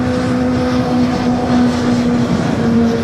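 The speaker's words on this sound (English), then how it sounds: "Qantas A380 is now pushing back" Qantas Airbus A380 pushing back at LAX: a constant droning engine or auxiliary-power hum with a strong steady whine, loud and close, unbroken and with no talk over it.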